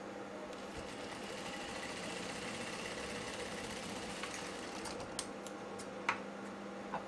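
A sewing machine runs continuously while stitching a blouse with piping, a steady close mechanical whir with a few small clicks near the end and no talking.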